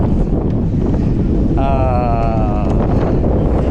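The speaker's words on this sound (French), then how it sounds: "je pense que vous m'entendrez pas avec le vent" Strong wind roars and buffets the microphone continuously in Essaouira, Morocco, loud and close, with a voice briefly audible through it.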